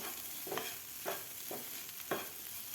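Egg bhurji is stirred and broken up in a pan with oil, making four distinct scraping strokes at an even pace over a soft, faint sizzle, close by and with no voices.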